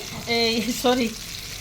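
Eggplant pieces frying in a pan with salt, a soft, steady sizzle heard close by and partly masked by a brief, voiced sound in the middle.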